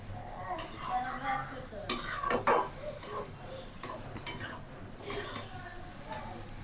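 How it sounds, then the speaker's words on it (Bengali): Vegetables stirred and fried in a pan, with repeated clinks and scrapes of a utensil against metal over a soft sizzle, and a voice speaking intermittently underneath. "এটাকে সুন্দর করে এখন কষিয়ে নিতে হবে"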